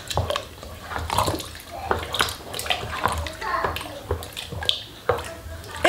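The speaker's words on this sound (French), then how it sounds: "Donc je vais venir rajouter un petit peu d'eau pour qu'il en ait légèrement à hauteur." Water being poured into a pot of rice chili, a steady splashing, trickling pour close by that runs the whole time with faint background voices.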